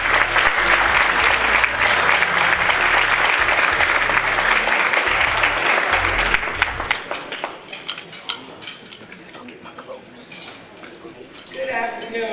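An audience at a women's event gives loud, sustained applause to welcome a speaker to the stage, with dishes and cutlery clinking nearby. The clapping thins out into scattered claps and room noise, and then a voice speaks.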